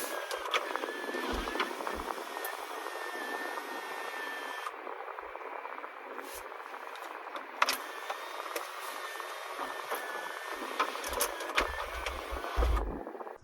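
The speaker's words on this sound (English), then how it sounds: "Here is your sunroof ventilation up and down, as well as the sunroof open and close button." Electric sunroof motor of a 2023 Toyota Camry XSE V6 whirring as the glass opens and closes, a steady mechanical drone with clicks and thumps as it starts and stops, heard close inside the cabin.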